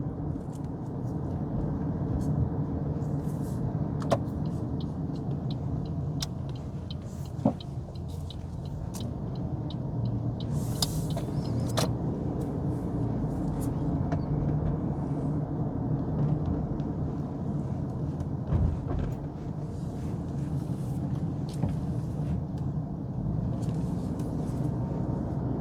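Car driving along the lake road out of Tiberias toward Migdal, heard from inside as a steady low road rumble and engine hum with occasional faint clicks and bumps, no talking.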